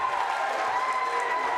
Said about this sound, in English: Nice to see the crowd come alive